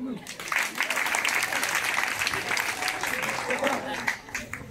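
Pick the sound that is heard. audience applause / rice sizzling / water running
audience applause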